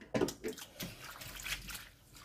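Bitter lettuce greens for kimchi are washed in water, with close, soft splashes and sloshing in a few quick bursts over about two seconds.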